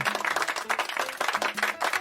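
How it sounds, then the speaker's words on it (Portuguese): Studio audience applause fills the space, a steady wash of many hands clapping at moderate loudness with faint tonal sounds beneath, no clear speech. "aplausos pra quem tem fé"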